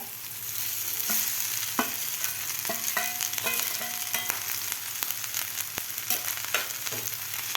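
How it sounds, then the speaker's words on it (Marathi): Cooked rice is stirred into fried vegetables in a pan for a raw-mango rice dish. A steady frying sizzle runs throughout, broken by a quick series of close scraping and tapping spatula strokes, with no speech. "व्यवस्थित आपल्याला भात मिक्स करून घ्यायचा आहे खालच्या भाज्यामध्ये"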